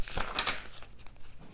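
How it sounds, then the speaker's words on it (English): Crisp papery shuffling of tarot cards, a few quick riffling bursts early on, then softer rustles fading, close and fairly quiet. "Let me shuffle one more time."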